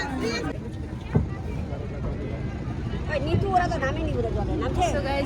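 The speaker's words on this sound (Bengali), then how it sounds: "গাইস আমরা এখন উঠলাম নৌকাতে।" A boat carries passengers on a river in Varanasi, with a steady low drone and water wash running beneath close, lively chatter among several people, plus a couple of brief knocks.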